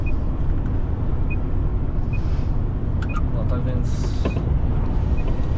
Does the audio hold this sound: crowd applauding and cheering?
no